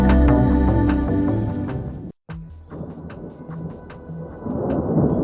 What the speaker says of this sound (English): There seems to be a powerful storm brewing around it.